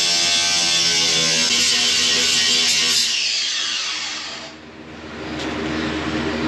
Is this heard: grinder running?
yes